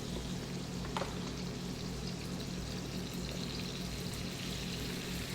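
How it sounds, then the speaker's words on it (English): Cream-based carbonara sauce poured into a pan over bacon, giving a steady, continuous pouring wash with a soft sizzle underneath, fairly close and without talk. "Next we're going to do is add our cream-based sauce"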